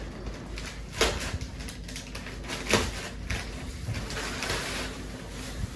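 Plastic packaging being sliced open, heard as scratchy, uneven cutting and crinkling with a couple of sharper rips, close by and fairly quiet, with no talk over it.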